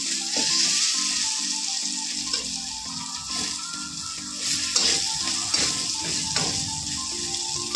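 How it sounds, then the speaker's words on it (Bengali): Eggplant frying in a pan over low gas, a continuous crackling sizzle with scattered pops and light spatula taps, close and fairly loud, no talking. "বেগুনটা একটু ভেজে নেবো"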